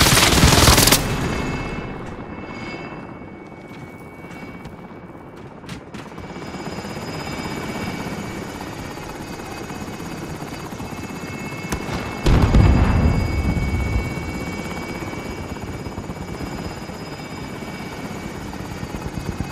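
Helicopter in the video game Call of Duty: Modern Warfare, a loud, sustained rotor roar with bursts of distant gunfire, swelling again near the end as the aircraft flies out.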